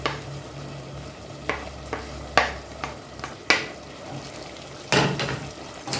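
A spoon stirs peppers and green onions in a pan, giving a series of scattered scraping knocks over a light sizzle, close by and moderately quiet.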